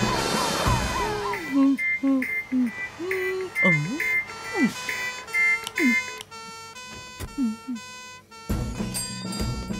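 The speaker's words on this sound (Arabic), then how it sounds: "أنا أسمع صوت صافرة إنذار" A repeating electronic fire alarm siren in a Fireman Sam cartoon wails in short rising-and-falling pulses, layered with beeping and background music, loud and continuous.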